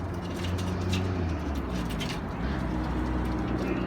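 Pet pigeons cooing at bath time, with low, soft, repeated coos over a steady background rumble that may be traffic, continuous and moderately close.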